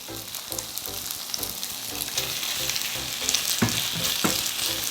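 Chive pancake batter sizzles and crackles steadily in a hot pan, a bright hiss like falling rain, with soft rhythmic thumps underneath.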